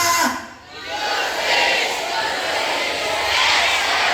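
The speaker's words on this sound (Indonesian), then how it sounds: "Ya, kita akan menyalakan, membunyikan yel-yel kita." Junior high school students in North Sumatra shout their group yell together, a loud, sustained chorus of young voices filling a room with a brief dip before swelling again.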